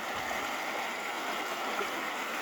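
Floodwater in a canal beside a house flows in a steady, moderately loud rushing wash, with no clear speech.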